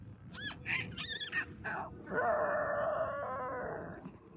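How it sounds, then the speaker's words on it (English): Dinosaur roars: a run of short, rising howl-like calls, then a long, loud sustained roar that holds for about two seconds before fading, with no speech. "they hear 2 more roars"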